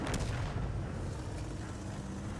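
A tank gun fires in a tank video game, heard as a dense, sustained rumbling blast that fills the whole clip at steady loudness, with no voices.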